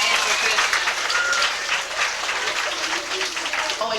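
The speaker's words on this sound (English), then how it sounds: "Let's take our hands, clap really loudly for both JT and for Kristen." Audience applause at a children's summer reading program with a ventriloquist at a library in Chesterville, Ohio; steady, loud clapping fills the room throughout, with some crowd voices mixed in.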